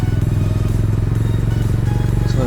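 A motorcycle ridden through rain near Keesaragutta, outside Hyderabad, produces a loud, steady, close engine drone with a fast, pulsing throb throughout.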